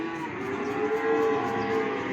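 A native cow at a buffalo and cattle market moos in one long drawn-out low call, close by, over a faint market background.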